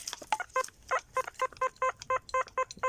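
A metal detector sounds a rapid run of short, evenly spaced electronic beeps, about a dozen in three seconds, clear and fairly close, with no talking.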